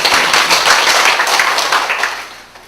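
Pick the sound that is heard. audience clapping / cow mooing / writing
audience clapping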